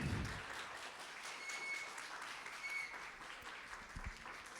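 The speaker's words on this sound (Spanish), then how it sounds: "lo recibimos con un aplauso" Soft, distant applause from the audience at a youth church service welcoming a young speaker, a diffuse, steady patter of many hands with a few brief thumps near the start and end.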